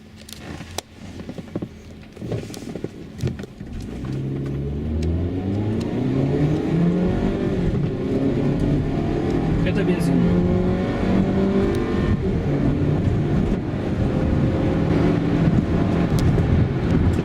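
A Mazda CX-7 with a 2.3 turbo engine, running on petrol, accelerates hard up through the gears, its rising engine note loud and close with wind noise over the microphone.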